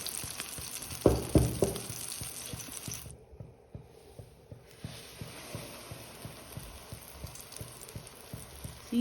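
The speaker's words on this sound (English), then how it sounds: "we're just going to drop our pepper with the hot oil" A batter-coated chile relleno pepper fries in hot oil with a continuous crackling sizzle. The sound dips briefly partway through, then returns with steady popping bursts. A few louder knocks come near the start.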